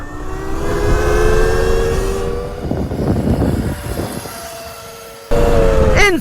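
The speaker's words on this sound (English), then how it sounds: "let's do a top speed run here on the RAR Mantis Mini in the highest power mode" RAR Mantis Mini electric bike on a top speed run in its highest power mode: a loud motor whine climbs in pitch over rushing wind noise, drops away briefly, then returns abruptly.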